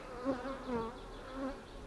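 Honey bees crawling over a honey-filled frame from a long-neglected hive buzz in a steady, wavering drone, with swells of louder humming at close range and no talk.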